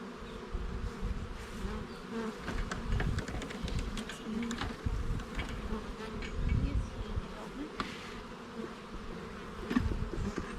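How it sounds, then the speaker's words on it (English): Steady, dense buzzing of many honeybees swarming close around a hive, continuous throughout with no voices. "there's bees all the way up"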